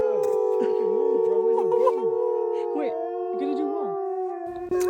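Several wolves in Arctic Abisko, Sweden, howl together in sustained, overlapping, wavering tones, loud and close, with a person's voice faintly mixed in beneath the chorus.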